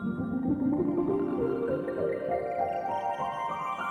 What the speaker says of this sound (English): let's kick it off with a granular piano.